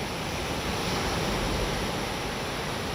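Ocean waves wash onto the beach at Bias Tugel in Nusa Dua, Bali, heard as a steady, loud, broad roar of surf with a little wind and no voices.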